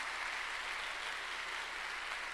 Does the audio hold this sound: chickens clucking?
no